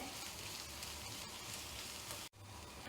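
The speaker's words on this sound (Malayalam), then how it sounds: "ഇപ്പോൾ നമ്മൾ ചെറിയ ഉള്ളിയും ചെറുതായിട്ട് ഇവിടെ മൂത്ത് തുടങ്ങിയിട്ടുണ്ട്" Small shallots fry in butter in a pan, giving a steady, dense sizzle throughout with one brief dip near the end.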